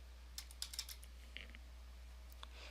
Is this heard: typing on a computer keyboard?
yes